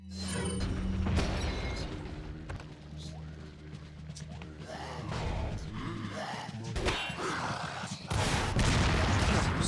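Gunfire cracks in the Resident Evil 4 video game, scattered shots and impacts over a busy mix of rumbling game sounds and effects, moderately loud with bursts near the start and end.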